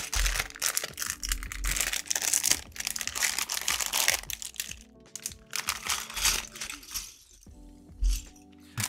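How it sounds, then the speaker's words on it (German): Plastic bags of toy building bricks being torn open and rummaged: dense crinkling and crackling in bursts, with small bricks rattling and clicking, close by, broken by short pauses. "Jetzt brauchen wir weitere Tüten. Tüten! Also ich mache mal mehr auf."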